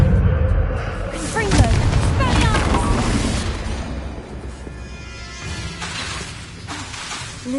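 Repeated spell blasts from the Confringo fiery curse in the Hogwarts Legacy video game, a dense run of booming, crackling bursts and shattering hits that stay loud and busy throughout, with a voice shouting spell names over them.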